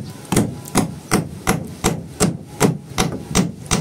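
Hammer blows on metal car bodywork, roughly nine sharp, evenly spaced strikes in a steady rhythm, close and loud with no talking.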